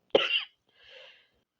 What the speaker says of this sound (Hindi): सॉरी, थोड़ी-सी खाँसी हो गई थी।